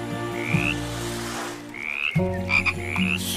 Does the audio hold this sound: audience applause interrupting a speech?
no